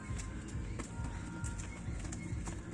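Pigeons kept as several pairs in a loft give soft, low, continuous cooing close by, with faint fluttering and light rustling over the throaty murmur.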